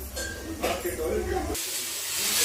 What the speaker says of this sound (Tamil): ஃபைனலாக நம்ம 4வது விசில் வந்துச்சு